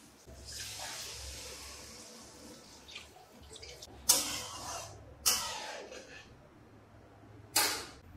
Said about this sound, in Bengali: এরপর আমরা যেটা করব সেটা হচ্ছে এটার মধ্যে জল দিয়ে দেবো